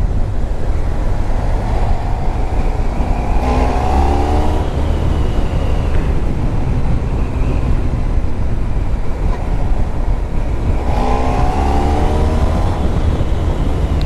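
A 2010 Honda VFR1200F, a 1200 cc V4 sport motorcycle, on a test ride: steady engine drone under heavy wind rush, with two rising gear-change sweeps in the engine note, loud and continuous throughout.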